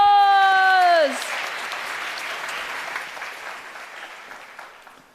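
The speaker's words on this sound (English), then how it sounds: "Let's give him a massive round of applause" Loud audience applause erupts at a business innovation summit after a brief sustained tone cuts off, then continues as dense, steady clapping that slowly fades over several seconds.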